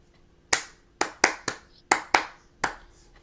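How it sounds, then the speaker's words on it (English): Hands clapping a rhythm during a lesson, seven sharp close claps in a long-short-short pattern with quiet pauses between. "Can you clap that?"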